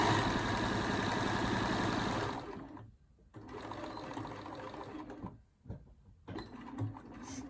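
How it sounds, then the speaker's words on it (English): A Bernina B570 Quilters edition sewing machine stitches close by in a fast, steady run, stops briefly, then runs again in shorter bursts between pauses. "But so far I am really liking this machine. It's a Bernina B570 Quilters edition."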